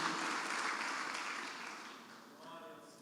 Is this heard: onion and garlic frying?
no